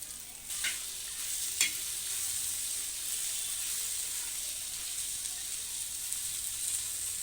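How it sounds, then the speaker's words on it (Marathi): Onion and green chilli thecha being sautéed with roasted peanut powder in a pan, a steady soft sizzle with a couple of brief stirring scrapes near the start, close and even throughout. "आता हा ठेचा परतल्यावर आपल्याला यामध्ये तयार शेंगदाण्याचा जळसर कूट टाकायचा आणि हा देखील व्यवस्थित परतवून घ्यायचा आहे"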